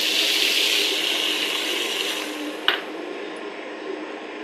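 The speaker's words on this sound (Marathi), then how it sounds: "थोडंसं पाणी टाकून घ्यायचं आहे." Water poured into a pan of cooking soybean curry with tomato and coriander, a soft steady pouring hiss followed by a brief splashy clink, then quieter liquid sounds.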